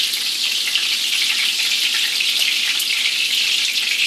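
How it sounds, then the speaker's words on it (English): Breaded gluten-free pork schnitzel fries in hot oil in a pan, giving a steady, close hiss and crackle of sizzling that holds throughout without a break. "all that's left is to drop it into some hot oil"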